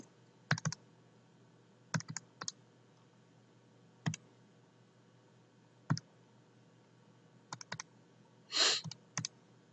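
Numbers are keyed into a calculator in a quiet room as sparse, sharp button clicks, some single and some in quick pairs or clusters, with a brief rustle near the end.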